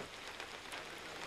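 Steady rain pours down around a hut by the Ganges at night, a dense, even hiss of drops on surfaces with no voices, loud and continuous throughout.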